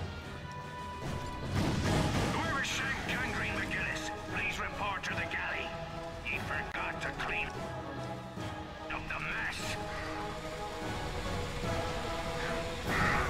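Leech bomb explosions and combat crashes in Ratchet and Clank: Tools of Destruction, with repeated bursts and impacts layered over a continuous game soundtrack, fairly loud and busy throughout.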